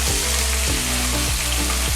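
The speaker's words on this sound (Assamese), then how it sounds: "ইয়াত আমাৰ মাছখিনি ভাজা হৈছে" Fish sizzles steadily as it fries in hot oil in a kadai, a dense continuous crackle with occasional soft stirring knocks, close and fairly loud with no talk.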